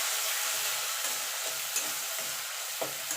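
Steady hiss of onion paste frying in oil in a pan, close and constant, punctuated by several soft stirring scrapes at irregular intervals; nobody speaks.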